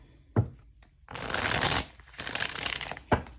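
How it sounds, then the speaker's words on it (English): Tarot cards being shuffled by hand: a sharp tap, then two long, loud riffling bursts of card shuffling, ending in a final snap of the deck, with no talk. "I cannot shuffle these today"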